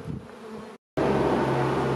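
A honeybee swarm clustered on a roof buzzes loudly and close, a dense steady drone that cuts out briefly to silence and then returns at full strength, with no voices.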